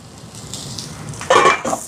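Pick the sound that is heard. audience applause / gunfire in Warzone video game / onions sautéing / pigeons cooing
onions sautéing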